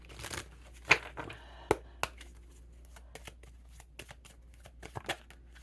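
Deck of prayer cards being shuffled by hand, a close series of soft papery riffles and sharper snaps at irregular intervals, with quiet rustling between them and no talking.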